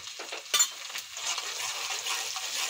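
Onions browning in oil with turmeric, frying for a peas and fali dish, give a steady soft sizzle, with a few brief spoon stirs and scrapes near the start.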